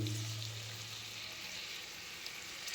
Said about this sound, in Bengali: এরপর এটাকে আরেকবার কষিয়ে নেব 5 মিনিটের জন্য।